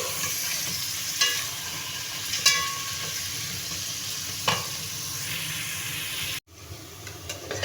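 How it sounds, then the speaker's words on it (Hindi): Bitter gourd (karela) fries in a pan with a steady hiss, broken by a few close stirring scrapes, then cuts abruptly to a quieter sizzle. "इसको डाल के फ्राई करते हैं।"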